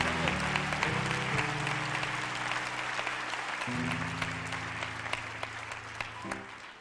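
Audience applause at a live spoken-word performance, a steady wash of clapping over a low sustained musical backing.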